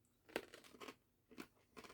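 Crunchy chewing of a dried scorpion, close and quiet, with four separate crackling bites in an uneven rhythm and short pauses between them.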